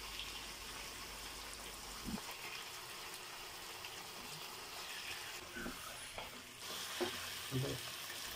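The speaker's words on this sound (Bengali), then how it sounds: "টক দইটা দিয়ে ভালো করে মশলার সঙ্গে মিশিয়ে নিচ্ছি।" Spice masala fries in a pan for chicken biryani as yogurt is stirred in, giving a soft continuous sizzle with a few scraping spoon strokes and small bursts near the end, quiet and with no talking.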